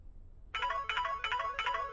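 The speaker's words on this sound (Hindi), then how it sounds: "टेलीफोन।" A telephone ringtone starts after a short silence and repeats in steady electronic bursts, loud and close, with no one talking.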